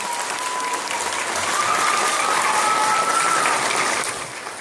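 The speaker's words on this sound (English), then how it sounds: "We all please give Jason another big round of applause." A live audience gives a hearty round of applause for Jason, a helper at a stage show, the steady crowd clapping swelling slightly and then easing off toward the end.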